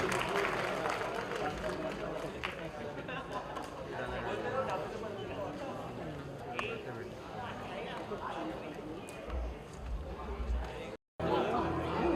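Audience applause at the Global Achiever's Awards 2015 red carpet show: a dense, sustained wash of clapping and crowd chatter lasting about eleven seconds, then cutting off abruptly near the end.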